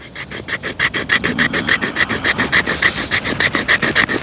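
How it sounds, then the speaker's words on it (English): The jimping on the back of a SOG Seal Pup Elite knife scrapes in a fast, steady series of loud, rhythmic rasping strokes, close up and with no talk. "But let's see if that jimping does any kind of scraping."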